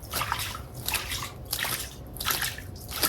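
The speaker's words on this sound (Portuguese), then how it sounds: "Então eu vou tirar com a mão agora." Dirty water scooped by hand out of a flower pot in a garden, heard as repeated wet splashing and dripping bursts at a steady, close-up rhythm, with no talking.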